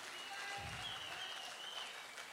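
Audience applause greets the performance of Kathak dance, ghazal and Sufi music, a soft, distant and even patter of clapping with a faint tonal hum underneath.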